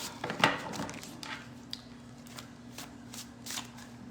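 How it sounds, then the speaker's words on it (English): A deck of tarot cards is shuffled close up, with quick riffling bursts and soft papery flicks coming in several clusters over a faint steady background hum. "Get these cards warmed up, shuffled and ready."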